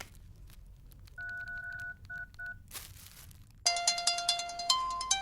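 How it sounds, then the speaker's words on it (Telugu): A phone number is keyed in on a mobile handset: a few short tone beeps in quick succession, a brief rustle, then a faster burst of bright keypad tones, all fairly quiet and without talk. "ఫోన్ ఇయ్యి, నెంబర్ కొట్టి తెలుసుకుందాం."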